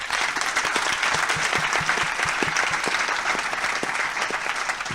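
Crowd at an investor summit aboard a cruise ship giving a sustained round of applause, thick even clapping from many people for several seconds.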